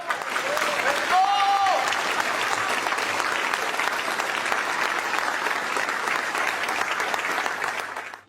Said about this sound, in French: je demanderai à toute l'assistance de s'élever et à applaudir son Excellence Félix Antoine Tshisekedi Tshilombo.